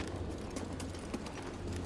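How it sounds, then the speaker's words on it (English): Goat hooves clop on the ground of Bogano in Star Wars Jedi: Fallen Order, a faint, steady run of quick clip-clop steps heard alone. "Come here, you big dumb fucking goat."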